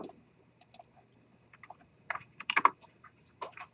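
Faint typing of input on a computer keyboard, sparse clicks at first building to a quicker cluster of keystrokes near the end, quiet and alone.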